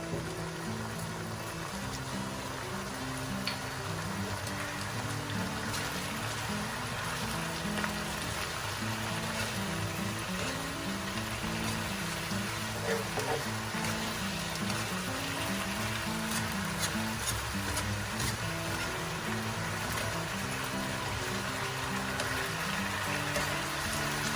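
Spicy saucy chicken seasoned with white pepper powder and fried shallots sizzles steadily in a pan over high flame, a continuous close frying hiss with faint clinks and stirring, no talking.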